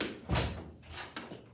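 Classroom door swinging open or shut, a sharp broadband thump followed by a couple of lighter knocks or rattles, moderately faint against room tone.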